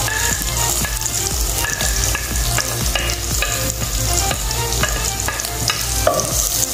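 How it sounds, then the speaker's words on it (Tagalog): Onions sizzle and sauté in a pan for squid adobo, with steady loud frying and repeated scraping stirs of a spatula throughout and no talking. "So brown na siya mga boss, ilagay natin yung sibuyas."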